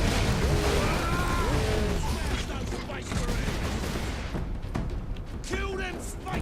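Rapid bursts of gunfire and heavy booms from the video game Space Marine crackle densely throughout, with talk mixed in beneath the shooting.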